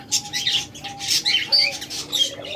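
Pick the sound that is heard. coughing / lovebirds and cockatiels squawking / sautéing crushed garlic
lovebirds and cockatiels squawking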